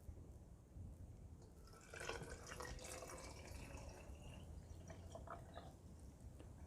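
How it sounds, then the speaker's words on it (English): Filtered water pours into a blender holding berries, a faint, continuous splashing and trickling stream that swells after a couple of seconds and runs on quietly under a low background hum. "Fill it to the top with filtered water."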